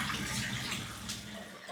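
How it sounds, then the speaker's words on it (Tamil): Water poured down from above onto household stairs during cleaning, a steady splashing wash that runs without a break, fairly close. "எங்கள் அண்ணி மேலேருந்து தண்ணியை கோரி ஊற்றி விட்றாங்க."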